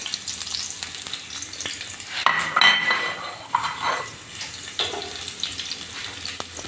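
Onions fry in hot ghee, making a continuous close sizzle that surges as they are stirred, with metallic scrapes and clinks of a utensil against the pot and no talking.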